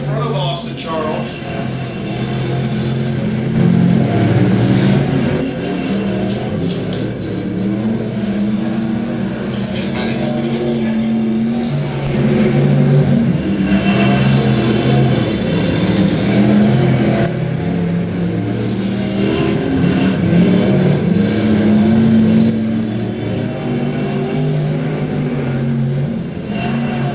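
B-Mod race cars battle around the Atchison County Raceway dirt track, engines roaring and revving in waves as they pass, loud and continuous beneath a race announcer's commentary.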